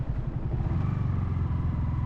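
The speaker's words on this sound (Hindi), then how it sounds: "स्पोर्ट्स बाइक का टायर फंसने जैसा हो रहा था।" A sports motorcycle's engine drones steadily and fairly close while riding across a sandy shortcut, a low pulsing rumble with no speech.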